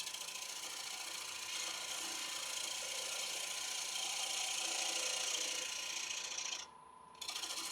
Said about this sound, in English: Now just starting to true up the bottom of the bowl